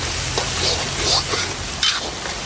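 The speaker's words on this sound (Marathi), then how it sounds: "पाच मिनिटं आपण असंच परतून घेऊ कांदा ब्राऊन होतोपर्यंत" Onions sizzle in a pan while being sautéed until brown, with steady frying crackle and a few soft stirring scrapes of the spoon, close and moderately loud.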